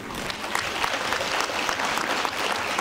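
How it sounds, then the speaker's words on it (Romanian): A theatre audience at a televised meeting claps in sustained, dense applause, loud and close, with no break across the whole stretch. "Vă rog să aplaudați"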